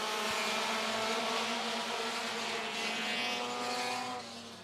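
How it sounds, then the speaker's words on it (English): Pro compact race cars racing at Mt. Lawn Speedway, a loud, continuous roar of engines at speed that drops slightly near the end, with no talk. "Kevin Claiborne and Dylan Hoppus look for the green flag, and we are back underway"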